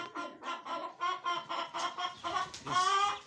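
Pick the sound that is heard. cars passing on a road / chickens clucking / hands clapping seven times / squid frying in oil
chickens clucking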